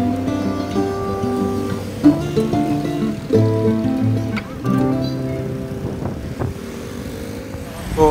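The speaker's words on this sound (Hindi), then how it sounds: "ये मेरे भाई मोटर बाइक चला रहे हैं।" A motorbike ridden along a road gives a steady droning engine note with shifting pitch and gear changes, close by, mixed with wind buffeting on the microphone.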